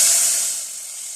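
Garlic and ginger frying in oil for a cheesy tomato pasta as spoonfuls of tomato sauce go in, giving a loud, close, steady hiss that fades a little over a second or so, with no talking.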